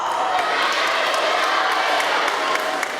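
Audience at a children's Little Red Riding Hood play applauding the actors, a dense, steady wash of clapping filling the whole stretch without pause.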